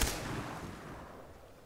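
A single gunshot in the Far Cry 3 video game, a sharp loud crack followed by a long fading rumble, heard alone without talk.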